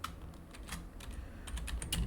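Quiet, close keystrokes on a computer keyboard as text is typed, irregular clicks that speed up into a quicker burst near the end.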